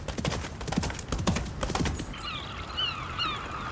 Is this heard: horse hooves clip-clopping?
yes